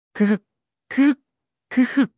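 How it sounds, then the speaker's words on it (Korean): Three short, voiced coughs close by, each a brief throat-clearing burst, spaced evenly about three-quarters of a second apart. "손으로 입을 가리고 3번 작은 기침 소리를 냈습니다"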